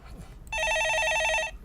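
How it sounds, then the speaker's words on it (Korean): Studio telephone on a Korean stock-market call-in broadcast rings once, a bright electronic trill lasting about a second, clear and close over faint room noise. "예, 전화 받아보겠습니다."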